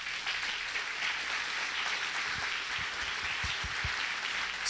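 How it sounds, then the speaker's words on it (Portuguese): Broad, continuous applause from a large church congregation, a steady wash of clapping with a few low thumps toward the end. "Aplauda bem forte ao Senhor."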